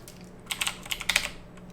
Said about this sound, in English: I'm going to type in shader